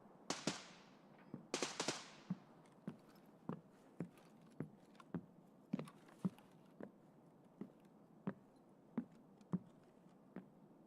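Rifle fire from an AK-12 in a video game: sharp, separate cracks recurring roughly every half second to second, with a few tight bursts near the start, each shot loud and distinct with no talk.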